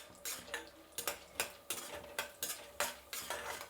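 Mustard seeds and tempering spices frying in a pan, with a steady low sizzle broken by a run of sharp, regular spatula scrapes or taps against the pan, about two per second, close and clear.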